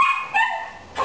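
Miniature schnauzer giving two or three quick, sharp barks close by, loud and clipped with short yips between them, no talk.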